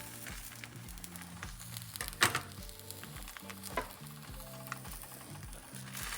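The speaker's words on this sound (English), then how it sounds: "Then next, we'll cook the ham on top." Ham sizzles and fries steadily in a pan, with a continuous crackle over a low rhythmic background hum and occasional louder pops; no one speaks.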